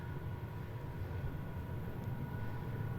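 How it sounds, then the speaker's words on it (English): A subway train rumbles far off beneath Sheppard Avenue East in Toronto, near Bayview Village, as a steady, low, continuous drone that holds level throughout with no voices over it. "I can hear a train rumbling off in the distance."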